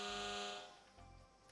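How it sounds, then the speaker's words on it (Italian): A loud game show alarm buzzer blares on L'Eredità, a harsh sustained electronic tone that cuts off partway, followed by a second, quieter pulse. "Suona l'allarme"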